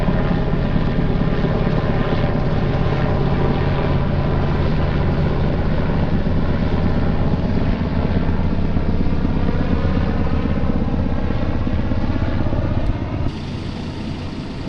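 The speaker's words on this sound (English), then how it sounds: "There's what I believe is a Black Hawk. Big old helicopter." Black Hawk helicopter flying over the Missouri River, a loud, steady rotor thump and turbine roar heard close by, continuous and dominant, then dropping off slightly at the very end.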